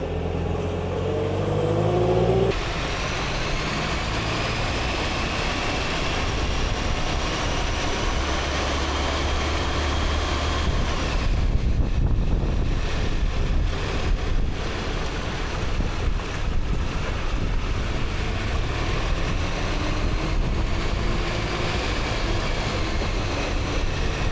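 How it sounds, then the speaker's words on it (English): A classic Land Rover on a higher-speed test drive with faulty steering, engine drone rising in pitch through the gears under a continuous roar of wind and road noise, heard from inside, loud and steady. "we're just out on a little drive to give it a test at some higher speeds than what I could get to around the little area that I live in."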